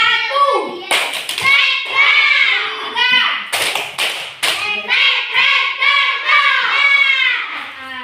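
Children in an Indonesian classroom clap together in repeated bursts, loud and close, with kids' voices chanting and calling out between and over the claps.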